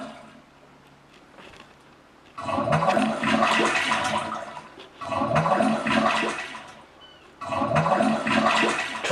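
A recorded toilet flush sampled for music plays three times in a row, each a loud rushing, gurgling surge of water lasting about two seconds with short quiet gaps between.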